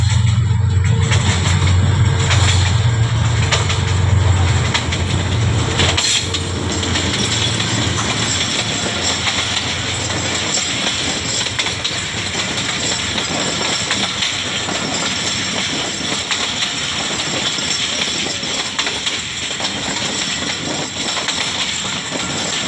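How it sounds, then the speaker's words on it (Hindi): Awam Express, a long-distance passenger train from Peshawar bound for Karachi, passes close by at Nur Junction with a loud, continuous rumble and rattle of carriages and wheels that holds steady throughout. "अवाम एक्सप्रेस पेशावर से निकलने वाली कराची जाने के लिए हमारे कैमरे के दरमियान आ चुकी है"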